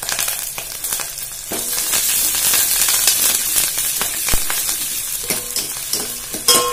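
Green chillies, onions, urad dal and curry leaves sauté in hot oil in a pan, a loud continuous sizzle broken by frequent scraping stirs of the spatula, close up with no talking.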